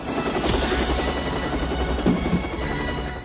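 A helicopter roars close by, its rotor chopping in a steady, dense rhythm throughout.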